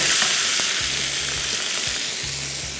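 Seekh kebabs frying in a pan give a loud, close, steady sizzle, with a few soft clinks of utensil movement and nobody talking.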